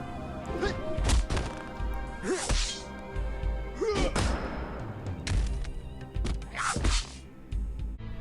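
Katana strikes in the Shadow Fight 3 fighting game, a series of sharp whooshing slashes and heavy thwacking impacts spaced a second or so apart, loud and punchy over a low game backdrop.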